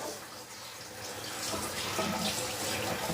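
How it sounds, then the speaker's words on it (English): Running tap water pours into a colander to rinse and cool food, a steady splashing flow that grows slightly louder and fuller, heard close with no talking. "We're going to rinse that out. We're going to cool it down."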